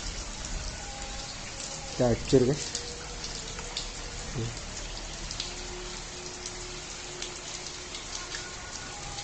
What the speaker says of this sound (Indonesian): Udah hujan nih guys.